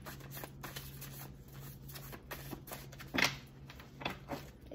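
Tarot cards are shuffled in a quiet room, soft repeated riffling and sliding bursts with one louder snap partway through, fairly faint and without talk.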